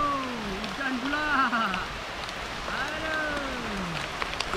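Rain pattering steadily across the whole stretch, with a voice speaking over it in drawn-out, sliding tones.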